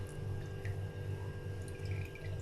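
Water dripping and trickling from homemade mozzarella cheese as it is pressed by hand, a soft, steady run of small drips over a low background hum, with no talking.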